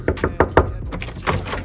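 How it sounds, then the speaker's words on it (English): Four quick, evenly spaced knocks land on a hotel room door, close and crisp, followed by a short stretch of muffled movement. "I'm gonna knock on the door and watch if he's gonna be there waiting for me"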